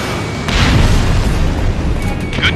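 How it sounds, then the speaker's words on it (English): SAM site exploding in Ace Combat Infinity: a loud, deep boom swelling into a sustained rumbling roar, close and heavy, with faint higher electronic tones over the top. "Hit. Sam destroyed. Solid hit on building."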